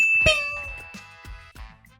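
A bright notification bell strikes one clear ding, and its ringing tone slowly fades. Soft knocks and light bumps follow in the background.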